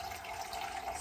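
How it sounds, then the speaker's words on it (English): Water runs steadily from a tap while a blown-out goose egg is rinsed, a constant close splashing wash with no talking over it. "So I do a little rinse once everything is out."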